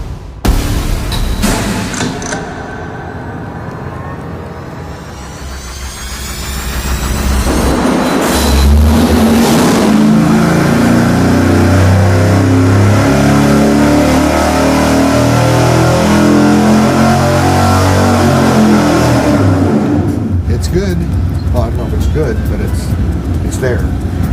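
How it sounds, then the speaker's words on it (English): A small block Chevy engine on a dyno, tested for cooling fans, starts up and revs hard through a long, loud, rising pull before dropping off, with people talking over the roar. "It, makes the same pull every single time so that we can see what's going on once we start putting fans on it. So, fire it up."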